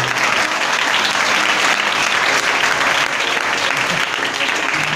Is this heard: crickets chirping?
no